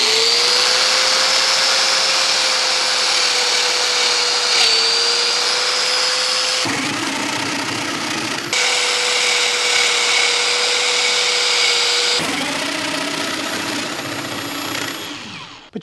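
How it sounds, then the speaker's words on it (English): A Kreg joiner and a Festool Domino cut into wood one after the other, each giving a loud, steady whirring motor drone. One has a rougher, chattery tone, and the two alternate over several long passes. "you can hear the difference between the 2, and I think the Kreg sounds a bit chattery"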